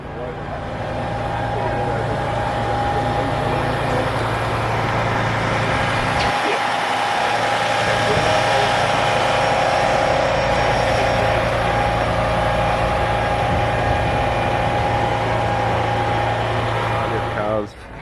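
A small car with a titanium exhaust runs on a dyno, a loud steady engine drone holding for a long stretch with a brief dip midway, cutting off sharply at the end.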